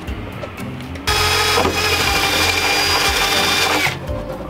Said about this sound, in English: I gotta drill holes